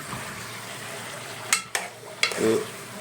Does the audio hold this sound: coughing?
no